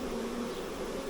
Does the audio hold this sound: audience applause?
no